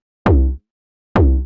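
808 bass sample pitched up twelve semitones and shortened, two short punchy tonal thumps with a bright attack, spaced nearly a second apart, loud and alone.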